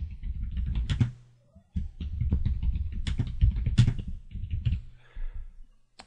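Keys clatter on a computer keyboard as a document title is typed into document management software, a close, steady run of clicks with one brief pause, no voices.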